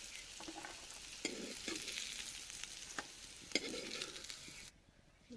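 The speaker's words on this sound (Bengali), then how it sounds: "পেঁয়াজগুলা বাদামি কালার করে ভাজা নিছি।" Chopped onions browning in a pan give a continuous close sizzle with repeated scraping strokes as they are stirred, and the frying noise drops away abruptly near the end.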